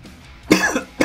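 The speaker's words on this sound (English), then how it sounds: "I can't shake this cough" A persistent cough from a person, two sharp harsh bursts close to the mic, the first longer and rasping, the second brief, with quiet room tone between.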